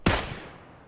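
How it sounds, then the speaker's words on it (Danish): A single sharp gunshot in the video game PUBG cracks once, then trails off in a short fading echo, alone with no voices. "Nice skud det der, Munde"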